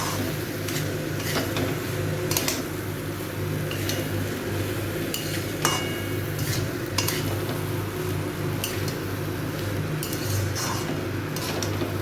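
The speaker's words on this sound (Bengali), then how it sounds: "এবার আমি সব জিনিসগুলোকে দিয়ে একটু ভালো করে মিশিয়ে নেব।" A spoon scrapes and clinks against a metal pot while lentils and spices are mixed for masala khichuri, with soft repeated stirring scrapes and occasional sharp taps over a steady low background hum.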